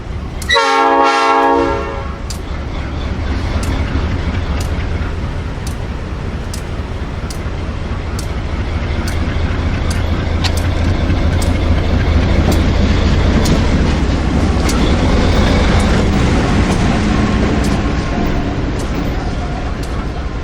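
A former L&N diesel locomotive at a heritage railroad in Oak Ridge sounds its horn in one loud blast, then rumbles steadily close by with a deep engine drone and faint rail clatter continuing for a long stretch.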